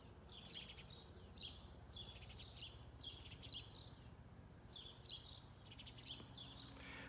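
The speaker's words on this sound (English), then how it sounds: "Listen to the birds." Birds sing outdoors on a Monday morning, repeated high chirping phrases arriving every second or so at moderate distance over a low steady background hum, with no talking.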